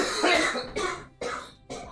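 Four harsh coughs in a row, close and loud, each a short burst separated by brief gaps, with no talking over them.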